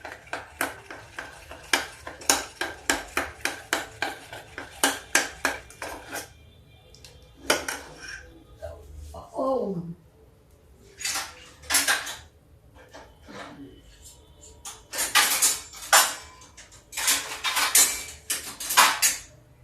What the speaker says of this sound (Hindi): इसको जितना ही आप फेंटोगे उतना ही अच्छा बनेगा